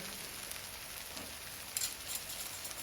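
Aloo tikki fry in oil on a griddle with a faint, steady hiss, and a few crackling spatters pop out now and then.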